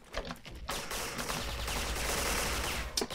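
A gold AK74 rifle fires in a first-person shooter game, a rapid continuous automatic burst after a brief pause, loud and close, with a few separate shots trailing at the end.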